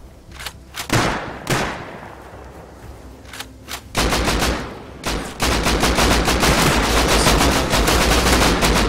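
Gunfire in the video game Rust: scattered single shots and short bursts early on, then a dense sustained volley of rapid automatic fire, loud and close.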